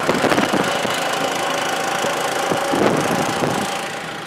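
An old tractor engine runs while rolling downhill on engine braking, a steady rough drone with irregular knocks and clunks, fairly close and without talk.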